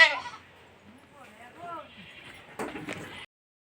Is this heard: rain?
no